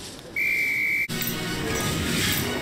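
A single sustained referee whistle from Madam Hooch in the Harry Potter and the Sorcerer's Stone PS1 video game, loud and steady for under a second, cut off abruptly before game ambience and music take over.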